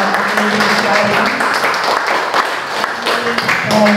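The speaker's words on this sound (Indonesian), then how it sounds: "Yuk kita tepuk tangan lagi untuk" Steady applause from an audience at an Indonesian public talk on artificial intelligence in media, with a voice speaking over the clapping throughout.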